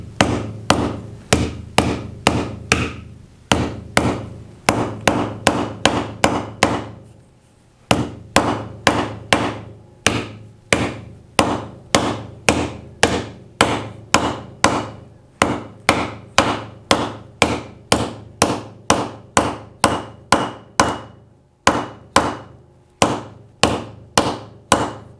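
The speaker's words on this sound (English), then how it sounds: "Soft face hammer." A soft face hammer strikes a new seal into a GM 14 bolt rear hub, dozens of sharp, evenly spaced blows that are close and loud, with one short pause after the first flurry.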